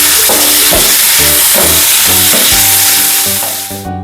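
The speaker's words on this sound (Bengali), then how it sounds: "খুব ভালো করে একটু নাড়াচাড়া করছি পেঁয়াজটা যাতে সফট হয়ে যায়" Onions frying in a pan while being stirred, a loud continuous sizzle and hiss close up, broken by repeated scraping and knocking strokes of the spoon before the sound fades near the end.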